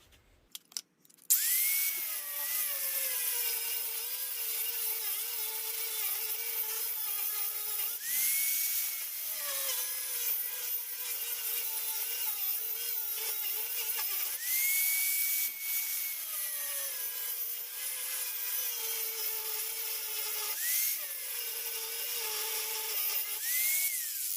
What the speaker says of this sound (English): once you get enough of the metal ground away, and then go back with your flapper wheel and straighten it up